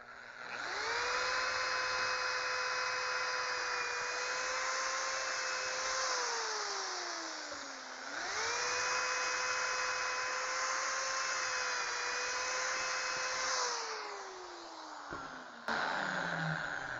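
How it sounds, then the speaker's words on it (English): A drill whines steadily while boring an angled pocket hole in a board clamped in a jig with its special bit, two long sustained runs with the pitch sagging and recovering between them, close and clear. "Take your special drill bit, which comes with it"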